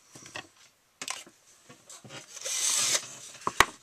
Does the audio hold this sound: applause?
no